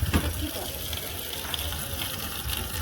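Water runs and gushes steadily from a tap while someone bathes, a continuous broadband splashing wash that stays close and even throughout.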